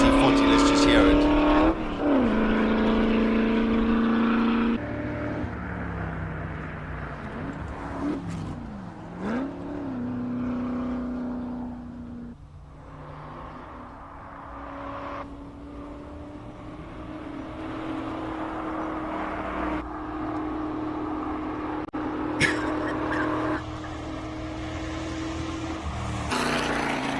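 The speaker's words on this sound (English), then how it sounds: "Beautiful GT40. Let's just hear it." Ford GT40 classic car at the Simola Hillclimb, its engine roaring loudly as it accelerates and changes gear up the course, with rising and falling revs and commentators talking over it.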